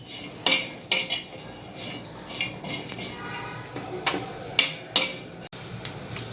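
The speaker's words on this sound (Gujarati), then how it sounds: "પહેલાં લીલા મરચાં શેકી લઈશું" Medium-hot green chilies roast in a pan for Maharashtrian thecha, with sharp metallic clinks and scrapes of a spatula against the pan coming in uneven bursts over a faint, low sizzle.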